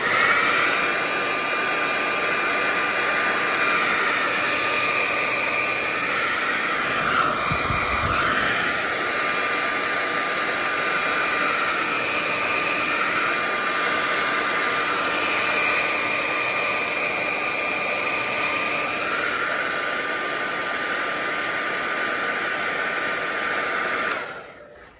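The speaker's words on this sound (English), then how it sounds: "with my wife's hair dryer" A hair dryer blows continuously at close range with a steady whooshing roar, briefly wavering once, then shutting off at the very end.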